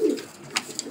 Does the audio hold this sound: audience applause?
no